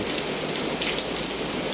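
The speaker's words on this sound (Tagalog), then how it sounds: "malakas ang ulan, ang buhos ng ulan." Heavy rain pours down during a windy typhoon storm, a loud, continuous hiss of drops drumming on surfaces close by, steady and unbroken with no talking.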